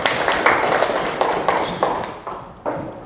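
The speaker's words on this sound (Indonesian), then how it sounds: "Tepuk tangan untuk kita semua." Scattered hand claps from a small audience at a teachers' training presentation, a handful of separate sharp claps with pauses between them, close by and without talk.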